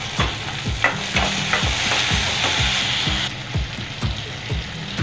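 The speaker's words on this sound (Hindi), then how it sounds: "इसमें हम टमाटर डाल देंगे, और टमाटर भी नरम होने तक हम भूनेंगे" Tomatoes frying in a pan with golden-browned onions, a loud continuous sizzle broken by regular spoon scrapes and taps every half second or so, no talk.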